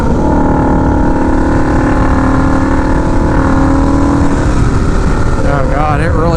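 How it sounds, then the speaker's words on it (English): A turbocharged Harley-Davidson V-Rod motorcycle accelerating hard past half throttle, a loud, close, sustained engine roar climbing steadily in pitch, with a voice talking over it near the end. "Oh god, it really opens up when you go past half throttle."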